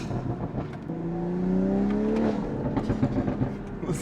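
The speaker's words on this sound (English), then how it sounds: "Listen to that overrun." BMW M340i with free-flow downpipes and a Valvetronic Designs full exhaust on overrun, a steady engine drone with falling tonal sweeps and a scatter of sharp little crackles, loud and close, with no one speaking.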